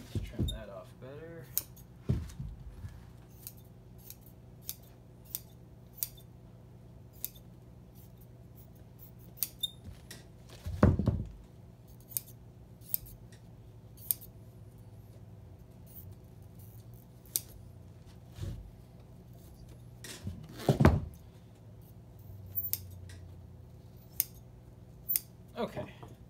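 Scissors trim upholstery material for a tractor-style motorcycle seat, with crisp repeated snips scattered throughout, two longer cutting passes, and low background hum beneath them.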